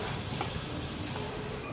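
Potato pieces for crispy chilli potatoes frying in hot oil, a steady, dense sizzle that holds evenly throughout without a break.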